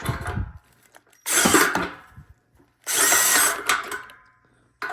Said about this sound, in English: I have a 7/16 socket here, and the drill is set to 22 as the clutch